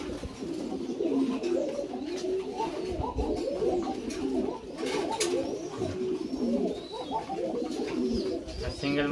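Fancy pigeons in a village pigeon loft coo steadily, several birds overlapping in soft, low throaty rolls with occasional light chirps, close by and continuous with faint voices in the background.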